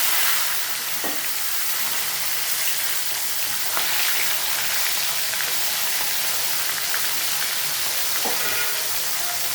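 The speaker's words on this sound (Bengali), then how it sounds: "এবার আমি একটা একটা করে মাছ কড়াইতে দিয়ে দেবো।" Fish fry in smoking-hot oil in a kadai, filling the space with a loud, dense, continuous sizzle and hiss, heard close up with no talking.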